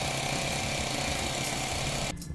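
Rain World video game scene with chainsaw chickens, a harsh, dense grinding buzz like a jackhammer or power tool that runs steadily and loud, then cuts out abruptly near the end, leaving a quieter rumbling background.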